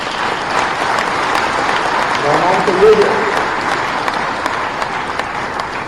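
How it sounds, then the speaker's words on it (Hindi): An audience at a state-level sports awards ceremony in Bhopal applauds steadily, a dense crackle of many hands clapping at moderate loudness, while someone speaks briefly over it. "जरा ताली बजा के जोरदार स्वागत करें"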